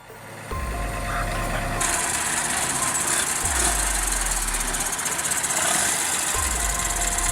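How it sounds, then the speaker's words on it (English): A tractor engine labours while pulling a sugarcane truck up a steep hill, a loud continuous diesel drone with a low knocking throb that surges and rises in pitch several times. "Sugarcane truck, steep hill, strength fading. Tractor steps in."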